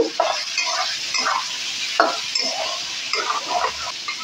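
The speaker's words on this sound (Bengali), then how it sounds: "ভালো করে এগুলোকে আমি নেড়ে চেড়ে নেব" Spices with red chili powder are stirred in a pan, giving repeated scraping strokes over a soft, low sizzle, close and moderately quiet.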